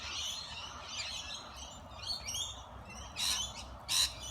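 Birds, including large white parrots, squawk and chirp at a backyard feeder, with scattered bright calls and two louder squawks near the end over a soft outdoor background.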